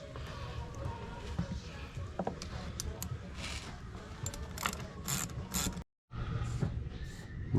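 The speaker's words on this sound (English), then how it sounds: "I'm gonna need that deep socket" A ratchet wrench with a deep socket clicks in quick bursts while fitting a Magnum GT cold air intake into the engine bay of a 392 Dodge Challenger Scat Pack, with clanks and a brief dropout near the end.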